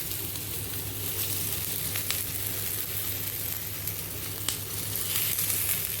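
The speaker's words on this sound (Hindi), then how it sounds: "चारों तरफ से घुमाते हुए इसको हल्का हल्का तड़का लगा देंगे" Hot oil tempering sizzles steadily in a pan over steamed taro leaf pakodas, a continuous moderate frying hiss with occasional sharper crackles, no voices.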